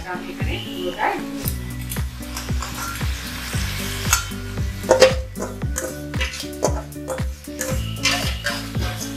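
Crab sizzling and frying in oil for crab kalia, stirred steadily in a pan, with a continuous hiss broken by utensil scrapes and a few brief clinks near the mic.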